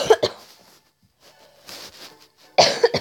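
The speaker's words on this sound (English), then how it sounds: "This horrible cough." Harsh coughing bursts, loud and close, open the moment, then a quiet stretch with faint shuffling noise before another sharp pair of coughs at the end, with no speech.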